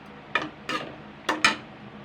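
Fish eggs being stirred in a pan: four short scraping strokes of a spatula, in two pairs, close and moderately loud over a faint steady background, with no talking.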